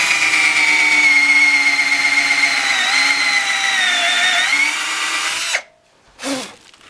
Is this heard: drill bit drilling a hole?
yes